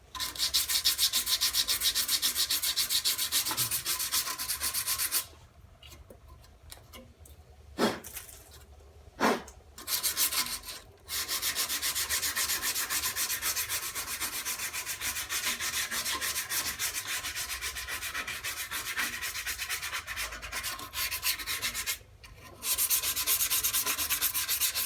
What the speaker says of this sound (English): I got a little sandpaper, clean the e-brake shoes a little bit.